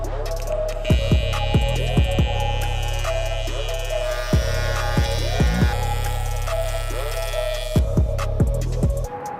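Aluminum is welded on the rotary of a pit truck amid a steady electrical hum and buzz, with repeated sharp crackling bursts recurring irregularly across the clip at close range.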